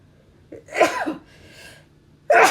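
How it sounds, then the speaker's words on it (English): A single sharp sneeze with a quick intake of breath before it, followed by a brief breathy exhale and another forceful burst at the end. "Excuse me, I had to sneeze."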